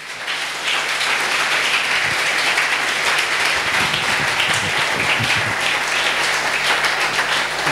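A church congregation applauds during a worship service, sustained clapping from a large crowd with a low hum underneath and a few scattered voices calling out partway through.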